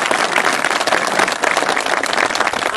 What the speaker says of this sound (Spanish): un voto de aplauso a nuestro visitante.